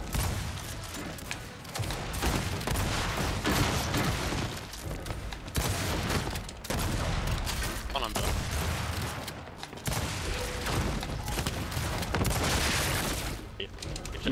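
Gunfire rattles through a Gears 5 match in dense, continuous bursts with booms and impacts, loud throughout, while players talk over the action.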